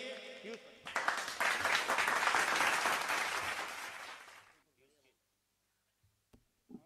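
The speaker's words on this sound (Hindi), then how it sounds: "आइए एक बार पीयूष परिंदा के लिए जोरदार तालियां" Loud applause from a kavi sammelan audience for a poet, rising quickly after a brief voice, holding steady for several seconds, then fading away into near silence with a few faint knocks.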